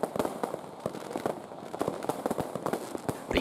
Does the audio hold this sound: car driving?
no